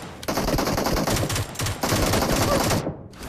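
An MK12 rifle fires in a video game in loud, rapid bursts of automatic gunfire. Two long strings of shots are split by a short break, and the firing cuts off abruptly near the end.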